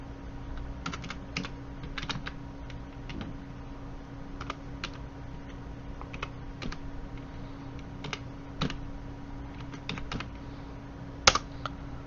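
Steady, close clatter of computer keyboard typing while data is entered into an Excel spreadsheet, with irregular keystrokes and a few louder key presses over a low background hum.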